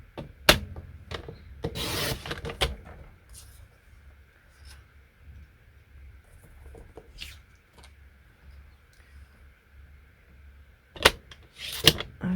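Paper trimmed on a grid-paper trimmer at a stamping craft table: a couple of short, scraping rasps of the blade near the start and again at the end, close and fairly quiet, with near silence between.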